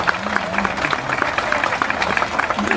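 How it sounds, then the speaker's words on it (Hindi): A crowd at a Lucknow political gathering claps loudly to welcome a mayoral candidate, with steady, dense applause throughout and some voices mixed in. "जोरदार तालियों से इनका स्वागत कीजिए।"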